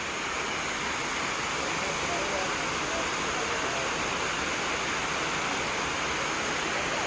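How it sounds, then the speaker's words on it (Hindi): A waterfall in Gir Forest near Junagadh, with water dropping straight down at dusk, gives off a steady, loud, even rush of broadband noise that holds unbroken from start to finish. "देखो यहाँ झरना भी बह रहा है।"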